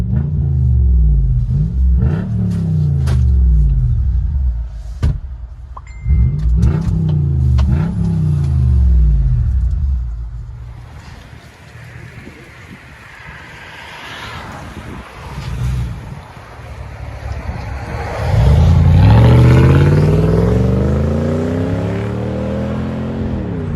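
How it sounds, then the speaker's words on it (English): Lexus GX470 V8 with a muffler delete, heard from inside the cabin: deep rumbling revs that rise and fall several times, a quieter stretch, then a loud swelling throaty rev. "Lexus GX470. What do you guys think? Muffler delete. Let you guys hear on the inside."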